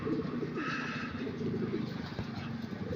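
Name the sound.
racing pigeons cooing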